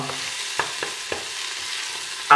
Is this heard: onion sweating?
yes